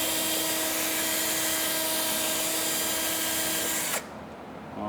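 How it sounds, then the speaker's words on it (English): A power drill bores a hole through the top side of a Porsche 991 GT3 during audio wiring work, whining steadily and loudly for about four seconds before stopping abruptly, leaving a quiet room. "So I'm gonna drill it on this top side over here."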